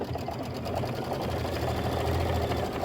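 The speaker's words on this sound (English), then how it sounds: "So I'm going to go ahead and stitch away." An embroidery sewing machine stitches a quilting design with a fast, steady mechanical whir and rapid needle pulsing, running continuously and close by.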